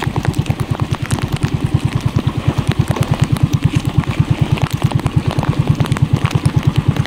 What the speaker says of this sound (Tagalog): hindi natin patayin yung makina kasi mahirapan pag lumamig yan